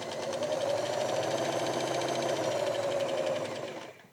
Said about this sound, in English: I'm going to sew it shut here real quick.